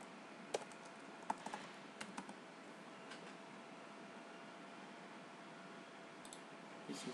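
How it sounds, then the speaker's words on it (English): Scattered keystrokes on a computer keyboard, faint and close, a few sparse clicks over a steady background hiss, with no talking. "You will have to type the title."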